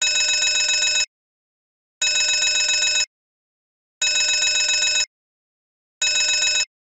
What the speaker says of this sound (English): The hydrocarbon alarm sounds like this.